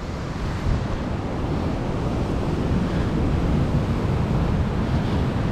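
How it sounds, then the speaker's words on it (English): High ocean waves crash and roll against a rocky shoreline at Callao Salvaje, Tenerife, a constant loud roar of surf mixed with wind buffeting the microphone, no voices. "now obviously there are some high waves, but we will survive with that."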